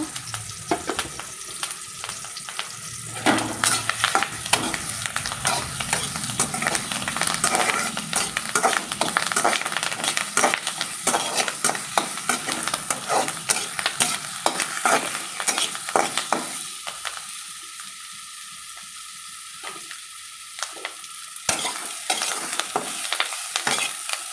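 Tomato pieces and curry leaves fry in hot oil in a pan, a loud, crackling sizzle with frequent spatula stirring and scraping that eases to a softer hiss before a final flurry of stirring.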